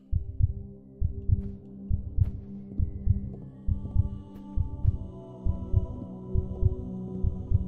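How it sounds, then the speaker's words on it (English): A steady, throbbing low heartbeat pulses in a Resident Evil-style survival horror game to signal low health, with regular double thumps repeating about twice a second over a dim ambient hum. "the heartbeat thing is because I'm on low health"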